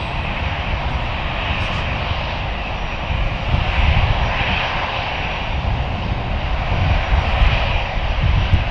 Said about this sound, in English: Marshalling in that Airbus.